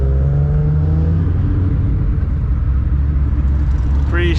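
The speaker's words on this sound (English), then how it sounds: "I'm honestly so proud about this exhaust, you guys" A Ford SVT Cobra with a newly fitted exhaust driving, a loud, steady, deep engine drone heard from close by without pause.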